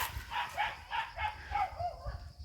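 A small dog gives a quick run of about six sharp, high yips in a steady rhythm, fairly close, over a low background rumble.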